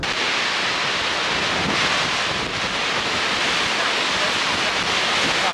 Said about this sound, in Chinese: 给你们听海的声音。